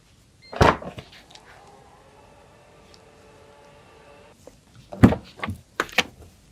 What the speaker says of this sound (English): Just simply move your foot under the bumper and the boot opens automatically.